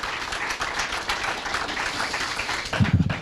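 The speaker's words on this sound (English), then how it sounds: "Let's give all of our authors another round of applause" An audience claps in sustained applause honoring the authors of a Memorial Day essay contest, a steady dense patter of many hands throughout, with a few louder individual claps near the end.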